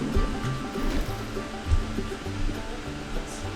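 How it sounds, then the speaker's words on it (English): A waterfall in the Minecraft video game, channelled down into underground caverns, pours in a steady watery wash with a few soft blocky knocks beneath it. "We got our waterfall."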